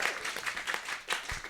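Brief burst of audience applause at a live comedy podcast taping, a room of many hands clapping at moderate level with a slight swell and dip over about a second and a half, no speech on top.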